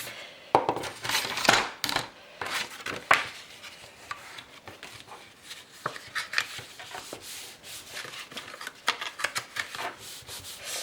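An eraser rubs out pencil marks on paper while a road book envelope is being made, producing irregular scrubbing strokes, some brisk and some softer, close by and without speech.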